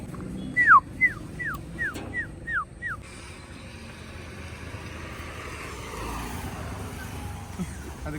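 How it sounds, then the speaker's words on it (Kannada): A puppy in front of a house lets out a quick series of about six high, thin whimpering yips in the first three seconds. Faint background noise follows once they stop. "ಗೈಸ್ ನೋಡಿ ಇಲ್ಲಿ ಮನೆ ಮುಂದೆ ನಾಯಿ ಮರಿ ಬಂದೈತೆ"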